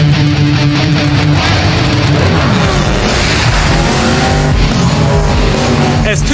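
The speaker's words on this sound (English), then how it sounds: "As two dragsters take up position at the starting line" Dragster race cars at the starting line of Willowbank Raceway in Queensland, Australia, give off a loud, steady engine roar that fills the whole stretch without pause.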